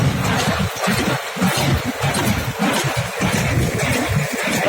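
Loud, steady chugging of a T-150 tractor engine running close by with a spreader while wheat straw is baled, its low rhythmic throb continuous throughout with no voices.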